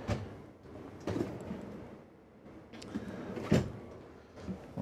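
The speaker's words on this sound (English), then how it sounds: "We've got three deep drawers here. These all have the soft close feature." Soft-close drawers in a 2023 Winnebago Navion 24D RV slide open and shut, making several soft thuds and sliding rumbles close by, with no talking.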